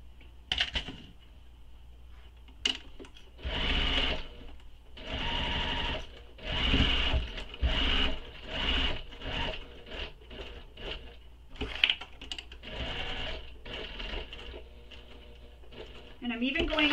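A sewing machine bastes with a long stitch length on a bag project, running in repeated steady bursts of rapid, close mechanical stitching separated by short pauses.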